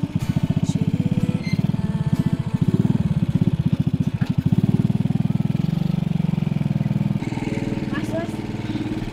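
A motorcycle engine runs with a steady low, rapid pulsing throughout, loud and close as if from the seat, its tone shifting slightly as it rides, with faint voices talking over it.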